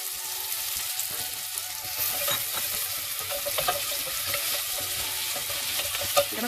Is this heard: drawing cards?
no